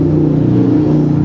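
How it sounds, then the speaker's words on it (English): Loud road traffic passing through historic Yuma, a steady close engine rumble and whir of a car going by, droning without pause for the whole brief moment. "Man, that traffic is loud,"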